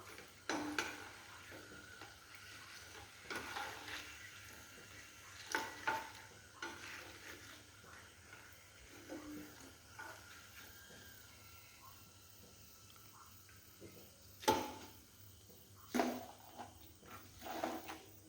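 A snack frying in hot oil in a home kitchen, a quiet sizzle broken by intermittent clinks and scrapes of a utensil stirring in the pan, with no voices.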